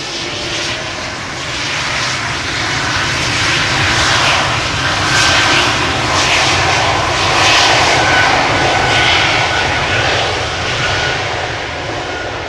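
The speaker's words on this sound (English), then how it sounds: "E2 Embraer 195 doing a turn and burn" A KLM-area Embraer 195 E2 jet departing Amsterdam Schiphol on a quick turnaround, its engines roaring loud and close in a steady, sustained broadband rush that swells midway, with no voices.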